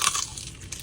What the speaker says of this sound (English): The crunch on the skin.